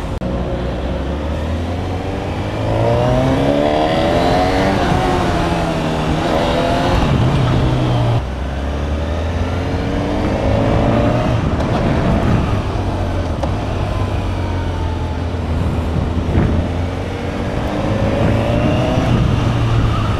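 A stock 2025 Honda CB1000 Hornet motorcycle is ridden hard, its engine rising through the revs again and again with distinct gear-change dips. The sound is loud, close and sustained, with wind noise and no talk.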